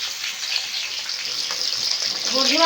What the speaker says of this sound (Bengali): মাছ তো এক পিট ভাজা হয়ে গেছে আর এক পিট এই একই রকমভাবে উল্টে তেলটা ভেজে নেব